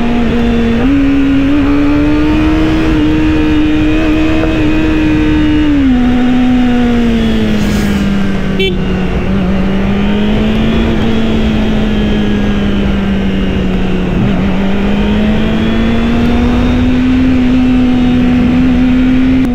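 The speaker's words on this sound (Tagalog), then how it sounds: "yung tunog ng inline 4, music to my ear" A Kawasaki ZX25R with an inline-four engine revs loud and close in a sustained high-pitched wail, its pitch dipping and rising gently as the throttle shifts over roughly twenty seconds.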